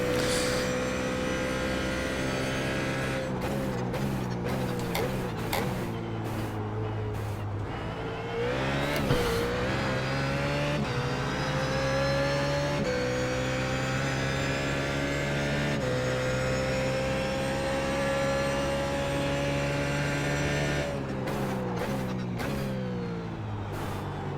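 BMW Z4 GT3 race car engine in iRacing at Sebring International Raceway, a loud sustained roar rising and falling through gear changes, with brief lifts and rapid revving bursts near the start and end.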